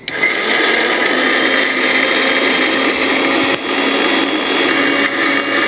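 Kitchen mixer grinder blending chilli paste for Mangalore prawn ghee roast after a splash of hot water, a loud steady high-pitched whirring run that holds for several seconds with a brief dip partway through.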